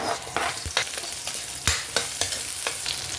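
Garlic and onion sauté in a hot pan for a seafood stew, with a steady sizzle under repeated sharp scraping strokes of a spatula stirring, close and fairly loud.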